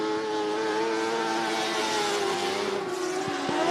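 Dwarf race cars running hot laps at Cottage Grove Speedway, a continuous layered drone of engines held at high revs, steady and moderately distant, with a couple of sharp knocks near the end.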